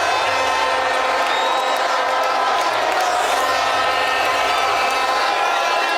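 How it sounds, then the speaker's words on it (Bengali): Brazil football fans in Dhaka celebrating goals against Haiti in a World Cup group match, shown on a big outdoor screen: a dense, constant roar of a cheering crowd with whoops, steady and loud throughout. "জয়ের ঘ্রাণে তখন উল্লাসে মাতোয়ারা সেলেসাও সমর্থকরা।"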